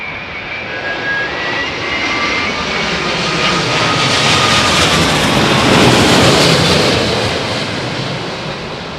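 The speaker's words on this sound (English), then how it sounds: "Listen to these engines. I think that whistling noise is those" Loud, steady aircraft engine roar with a high whistling whine running through it, swelling slightly midway and holding without voices, as a plane lands in windy conditions at Heathrow Airport.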